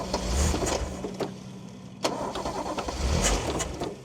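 A Toyota Cressida MX32 at a wreckers' yard cranks over with an uneven, chugging starter churn that surges and sags without catching, close and fairly loud.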